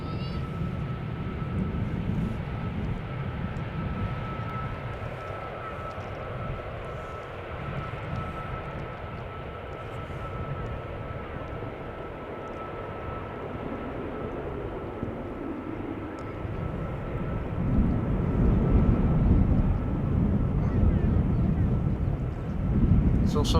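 A heavy airliner taking off from the center runway at Schiphol Airport, a distant broad engine roar that swells louder toward the end, steady and rumbling with a faint tone above it.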